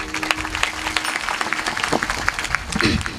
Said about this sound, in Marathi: आपल्यासाठी आपण जोरदार टाळी वाजवूया